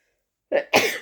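A single close sneeze, a short inhaled catch followed by a louder, breathy burst, alone in otherwise silent surroundings.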